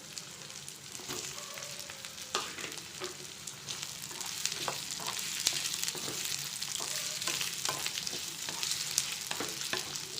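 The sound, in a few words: cauliflower frying and being stirred in a pan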